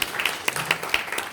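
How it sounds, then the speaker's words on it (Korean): A church congregation gives a short burst of clapping during a Sunday service at a military chapel, a few distinct claps in a thin, brief round. "박수 한번 주시죠"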